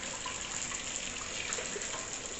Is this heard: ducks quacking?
no